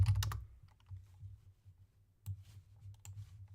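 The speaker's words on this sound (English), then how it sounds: "I'm just going to type in wedding." A search word is typed on a computer keyboard: a few soft, sparse key clicks at the start and again later, faint and close in an otherwise quiet room.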